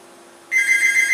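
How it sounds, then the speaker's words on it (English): A mobile phone starts ringing partway through a quiet indoor interview, a sudden, steady electronic ring tone that holds loud and continuous to the end, with no voices over it. "There's my phone ringing like always."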